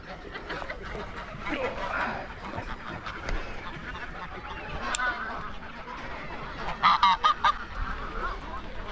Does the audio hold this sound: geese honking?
yes